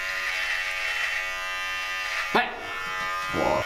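Electric razor buzzing steadily throughout, with a brief louder burst near the end and a voice speaking briefly over it, during a haircut and shave.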